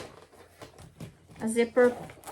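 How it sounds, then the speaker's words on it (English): A zipper on a crossbody bag is pulled in short rasping strokes, close and fairly soft, while a person talks over it. "It has a zipper"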